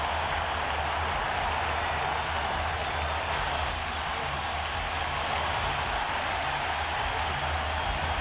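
Baseball crowd at the 2001 World Series Game 1 between the Yankees and Diamondbacks in Arizona applauding a home run and calling for a curtain call, a steady, distant wash of stadium cheering and clapping.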